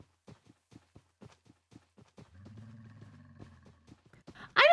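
Video-game camel sounds with horse-like character: a steady run of soft clip-clop hoof steps, then a low rumbling groan midway and a sharp, loud cry at the very end.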